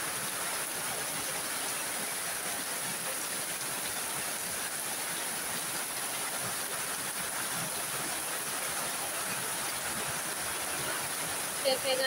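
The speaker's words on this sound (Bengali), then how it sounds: "প্রচুর বৃষ্টি হচ্ছে।" Heavy rain falls steadily over a village home in Sylhet, a dense, even hiss of downpour running the whole time without letup, loud and close, with no voices.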